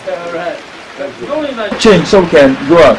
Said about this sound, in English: Don't mind this rain.